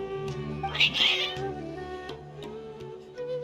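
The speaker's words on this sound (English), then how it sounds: "Your cats seem pretty worked up." Cats meowing in Genshin Impact, one loud high mew near the start, then softer cries over steady background game music.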